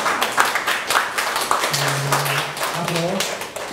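A crowd claps in a loose, continuous round of applause at an arts festival, with a voice speaking in Korean over the clapping.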